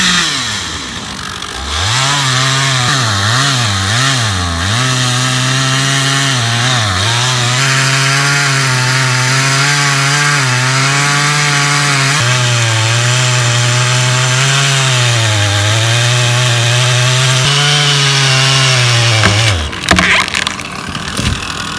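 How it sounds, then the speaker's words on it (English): A big chainsaw cuts into a tree stump, its engine roaring loud and close, steady through the cut with slight pitch dips under load before it revs down at the end. "Chainsaw roaring, it's time to dominate."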